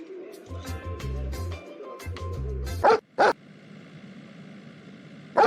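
Dogs bark in quick bursts of deep woofs and yips, close and loud, followed by a few sharp thuds over a low background hum.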